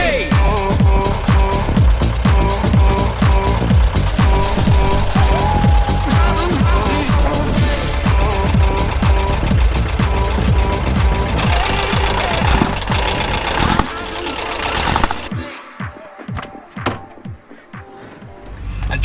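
A 1981 VW T25 Devon campervan engine runs loud and rough for about fifteen seconds, a dense knocking clatter, before cutting to quieter scattered sounds and revving up again at the end.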